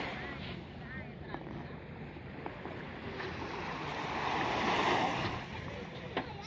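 Sea waves wash ashore at Khaleej Salman Beach in Jeddah, a soft continuous surf mixed with wind buffeting the microphone, swelling near the end.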